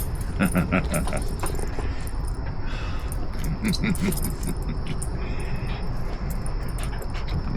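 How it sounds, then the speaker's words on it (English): A happy pet dog moves about nearby, making small yips and whimpers amid a constant smoky outdoor background hiss, with faint jangling like keys or a collar; no one speaks. "She's a happy dog."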